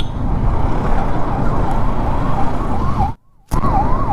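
An ambulance siren wails close ahead on a road near Ooty, loud and continuous with a rising and falling tone over road noise, cut off by a brief silence just before the end.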